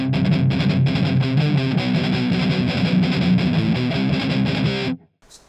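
A heavily distorted electric guitar drives a rock song with a half-flamenco, half-heavy feel, loud and dense over a full band, strummed in a steady rhythm until the music cuts off abruptly near the end.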